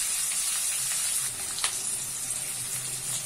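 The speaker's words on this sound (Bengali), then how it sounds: "এই পেঁয়াজটা ভাজা হচ্ছে" Onions frying in oil with mustard seeds and curry leaves, a close, steady sizzle with a few small crackles and no voices.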